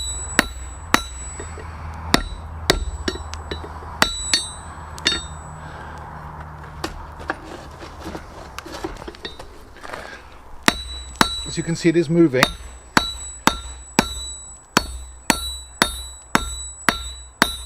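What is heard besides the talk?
sledgehammer striking steel on anvil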